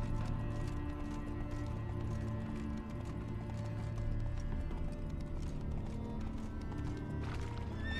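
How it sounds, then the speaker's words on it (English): Rapid rhythmic hoofbeats of a galloping horse in The Witcher 3, steady and close, over a low ambient hum with no talking. "Run, Roach."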